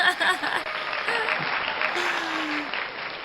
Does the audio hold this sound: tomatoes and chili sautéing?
no